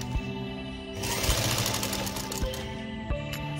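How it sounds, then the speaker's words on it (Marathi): A sewing machine runs in a steady, rapid mechanical chatter while double-stitching fabric for a baby jacket, with a few brief clunks as it starts and stops, heard up close and alone. "इथे मी डबल टीप घालतीये त्याच्यावर."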